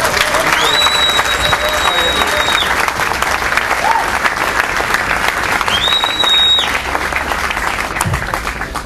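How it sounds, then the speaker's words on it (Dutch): Loud, sustained crowd applause at an outdoor jazz gathering honoring Chet Baker, with a couple of sharp whistles rising above the clapping before it begins to thin out near the end. "Ik wil graag een hartelijk applaus en een welgemeende waardering voor de man die dit allemaal heeft georganiseerd."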